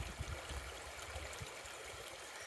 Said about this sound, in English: let me show you the creek. This feeds into the river